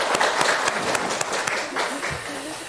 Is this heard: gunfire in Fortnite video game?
no